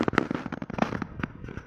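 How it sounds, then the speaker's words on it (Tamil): Firecrackers in a fireworks simulator video game crackle and pop in a rapid, uneven string of sharp bursts, close and fairly loud. "இது என்ன வெடி?"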